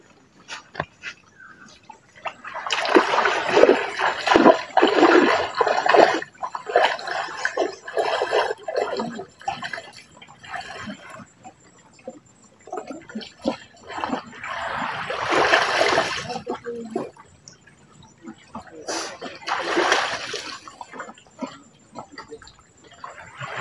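Sea water splashing and sloshing in bursts over about twenty seconds, close by, with brief quiet gaps between the busier stretches.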